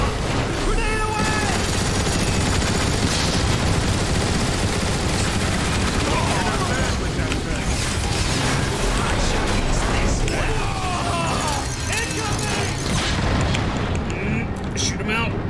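A grenade explosion and gunfire in the shooter game Transformers War for Cybertron, heard as dense, loud, continuous bursts of weapon fire and booms throughout, with voices shouting over the battle.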